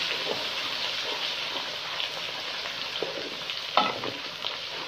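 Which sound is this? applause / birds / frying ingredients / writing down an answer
frying ingredients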